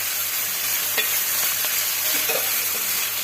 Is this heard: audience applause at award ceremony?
no